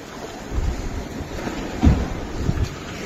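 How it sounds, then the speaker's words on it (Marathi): Surf rolling onto a rough shoreline beside fishing boats, a steady low wash with wind buffeting the microphone and a few stronger swells breaking near the end. "इकडे लाटा बघा कशा हा बघा बेकार कंडिशन आहे पूर्ण लाटा किनारी येतात"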